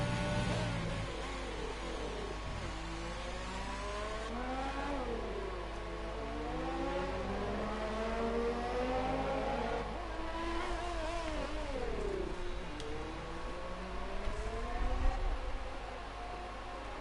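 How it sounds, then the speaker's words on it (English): Formula racing cars in a racing video game, likely a Ferrari among them, drone and swoop with rising and falling engine pitch through gear changes, continuous and moderately loud over a steady low hiss. "The first driver out it's Pyro and the Ferrari."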